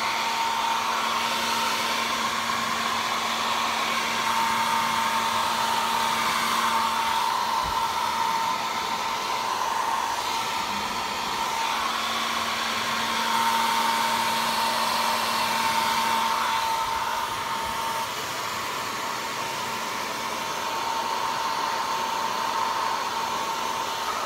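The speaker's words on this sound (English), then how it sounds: "just put a little bit of a dryer on here just to get it a little bit dry." A hair dryer blows steadily and loudly for the whole stretch, a constant whirring rush with a high whine, no voices over it.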